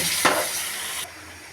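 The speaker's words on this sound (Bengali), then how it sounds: "এখন আমি ঝোলের জন্য পানি দেব" Water poured into a hot pan of fried eggs, vegetables and turmeric to make curry gravy, giving a sharp sizzling burst that spreads into a broad hiss and then cuts off abruptly.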